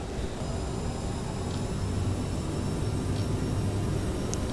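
A CRJ regional jet taking off in Microsoft Flight Simulator 2024, a steady broadband engine roar with low rumble holding constant throughout, no voices over it.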